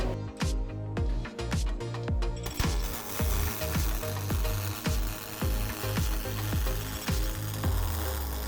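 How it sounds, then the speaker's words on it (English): A Fronius TPS 500i robot pulse-welds galvanized steel with KISWEL KC-37 wire, making a loud, rhythmic crackling arc that throbs in even bursts about three times a second throughout. "Here, we're using the KISWEL KC-37 welding wire using a standard pulse process on galvanized steel."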